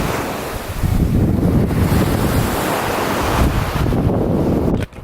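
Ocean waves wash onto a beach in a steady roar mixed with heavy wind buffeting the microphone, loud and continuous for several seconds before a sudden drop near the end, with no voices.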